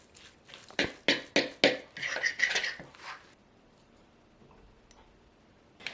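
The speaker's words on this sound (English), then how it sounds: "Stir ferociously." Croquette batter is stirred hard in a bowl: a quick run of five or six sharp, rhythmic clacks of utensil against the bowl, then a brief scraping flurry before it falls quiet.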